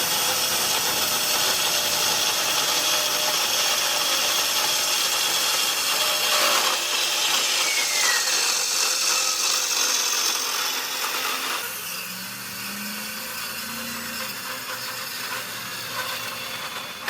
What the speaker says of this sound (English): that's why we came over to the porta band to straighten up this cut